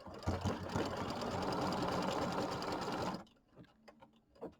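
An embroidery machine runs a rapid, even basting stitch around the outside edge of an appliquéd leaf, buzzing loudly for about three seconds before stopping, followed by faint handling noises.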